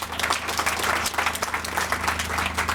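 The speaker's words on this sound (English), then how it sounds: "I think he deserves a round of applause." Audience applause fills a university sod-turning ceremony for development projects, steady and dense clapping from a sizeable crowd sustained throughout without pause.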